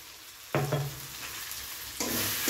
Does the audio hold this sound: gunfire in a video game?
no